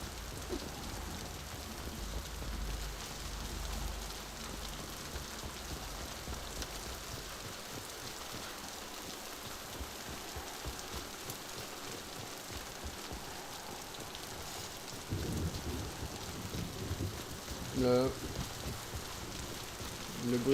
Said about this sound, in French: Le bruitage sur la pluie est bien fait, je trouve.